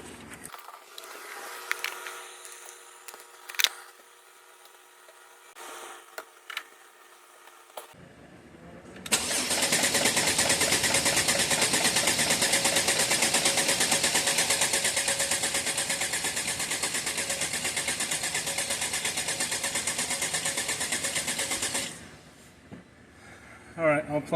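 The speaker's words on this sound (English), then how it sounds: "again it's going to be just a bunch of cranking." A 2013 Mercedes ML engine cranks continuously for about thirteen seconds without catching, a loud, steady starter churn that begins abruptly and cuts off just as suddenly, preceded by quiet handling noises.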